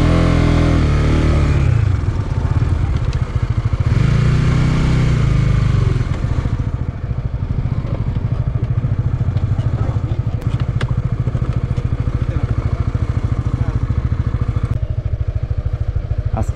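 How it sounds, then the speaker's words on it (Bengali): A motorcycle engine labours on a rain-soaked, muddy border road in Kolmakanda, Netrokona, loud and close, with revving and strained low throbbing plus clattering from the bike as it struggles through the mud. "আজকে বৃষ্টি হওয়ার জন্য রাস্তাটা এতটা কাদা হয়ে গেছে যে বাইক নিয়ে যাওয়া খুব কষ্ট হয়ে যাচ্ছে।"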